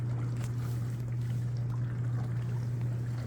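A dishwasher runs with water, giving a steady low hum and a continuous soft wash of swishing spray, heard faintly and evenly throughout.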